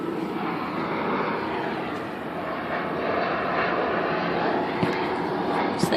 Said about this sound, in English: So the airplane's loud today because of the cloud cover